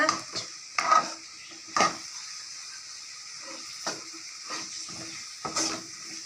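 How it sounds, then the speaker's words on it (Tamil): Cauliflower sautéed in a pan gives a soft, continuous sizzle, broken by irregular scraping stirs of a spoon against the pan every second or so. "காலிஃப்ளவர் போட்டு ஒரு 2-3 மினிட்ஸ் வரைக்கும் நல்லா வதக்கிட்டு அதை தனியாக எடுத்து வச்சுக்கோங்க."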